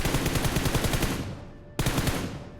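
Rapid automatic gunfire from PUBG, loud and close: a sustained burst of fast shots that fades out, then after a brief break a second burst starts up, with no talk over it.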